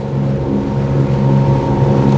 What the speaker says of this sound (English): I'll apologize for the engine sound. I'm right beside one of the mufflers